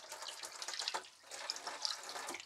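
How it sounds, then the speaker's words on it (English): Cold water runs from a kitchen tap into a sink at home, a steady, fairly quiet splashing stream with small drip-like spatters, no talking. "I'm just going to run my cold tap with it."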